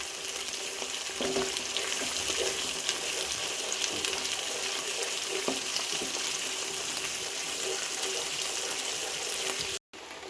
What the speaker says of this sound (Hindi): अब इसकी भी हम अदरक लहसुन की भी अच्छे से भुनाई कर लेंगे।